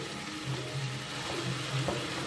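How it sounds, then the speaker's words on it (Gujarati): Vegetables sauté in a pan with a steady, moderate sizzle and a few soft stirring scrapes, close by and uninterrupted by talk. "જોઈ શકો છો શાકભાજી બધું સંતળાઈ રહ્યું છે. સારી રીતે શાકભાજી સંતળાઈ ગયું છે."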